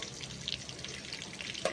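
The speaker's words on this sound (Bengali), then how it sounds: "এগুলোকে লাল লাল করে একদম ভেজে নেব।" Chicken pakoras in a thin coating deep-frying in hot oil, a steady soft crackling sizzle with a few brighter pops near the end, no talking.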